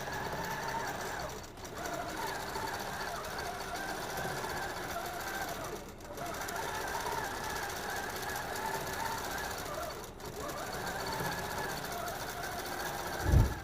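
A QCT6 Pro computerized quilting machine stitches a pattern with a close, rapid, buzzing needle rhythm that runs in long stretches broken by brief pauses, ending with a small bump.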